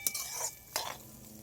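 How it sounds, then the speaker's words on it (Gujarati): Carrots and peas hitting hot oil over a wood-fired stove give two short bursts of hiss and scrape, with quiet crackle between them and a low, steady background. "તેલમાં આપણે પેલા એને ગાજર ને વટાણા નાખી દેવાના છે તેલમાં."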